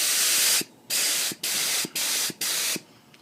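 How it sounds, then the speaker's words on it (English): Five short aerosol spray bursts coat a Carvin bass guitar neck with finish. Each hiss lasts about half a second, separated by brief pauses, close and loud with no talking. "So I'm going to spray a couple more on there."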